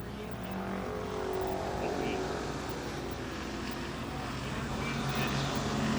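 Hoosier stock cars roar around a speedway oval in a continuous, moderately distant engine drone that swells and eases slightly, with a race commentator talking over it.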